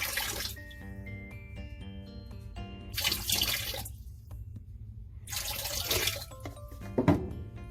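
Liquid is poured into a container in three bursts of splashing, gurgling flow, with quieter clinks and ringing tones between the pours, close by.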